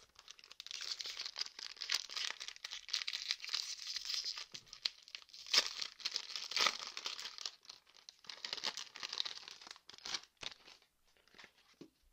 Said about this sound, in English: now let's open the 4 packs of champion path.